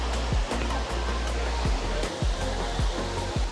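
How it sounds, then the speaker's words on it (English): Waterfall rushing in a steady, loud broadband roar, the fourth fall on a rocky trail where people queue to stand under it; heavy continuous water noise with faint thumps, no talk. "there's a queue for people to get under the waterfall"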